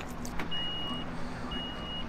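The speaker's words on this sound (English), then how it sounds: "Oh, got the Ferrari beeping at us." A Ferrari sounds two sustained electronic beeps, each about half a second long and separated by a short pause, fairly clear over low background noise.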